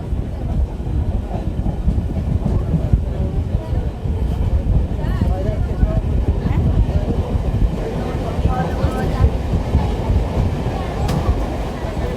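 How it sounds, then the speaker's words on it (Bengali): An ICF-coach Bengal local train pulls out of Batna Krittibas station, heard from on board as a steady, loud rumble with rhythmic wheel clatter over the rails, continuous throughout. "এই মুহূর্তে কিন্তু আমাদের ট্রেনটি বাতনা কৃত্তিবাস ছেড়ে বেরিয়ে যাচ্ছে"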